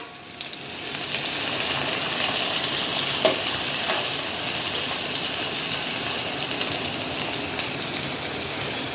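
Onions fry in a pan with a dense, steady, close sizzle that holds evenly from start to finish, with a faint stir or two and no talk.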